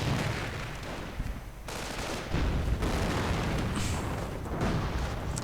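A grenade explosion bursts amid continuous rattling gunfire and booms in a 1v1 war strategy video game, with the battle noise dense and unbroken throughout.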